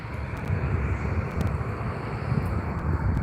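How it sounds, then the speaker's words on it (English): Broad, steady roar of a small plane at Daniel Field, a private airport in Augusta, Georgia, heard from outside at moderate distance as a continuous rumbling wash with wind noise, no voices. "So a plane just landed here at the Daniel Field Airport in Augusta, Georgia"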